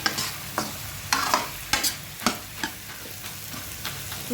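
Tender bottle gourd with a little turmeric frying in a pan, stirred with a spatula in a steady run of scraping strokes over a soft continuous sizzle, close by with no talking.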